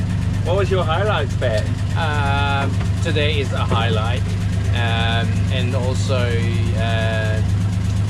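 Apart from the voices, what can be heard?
boat engine running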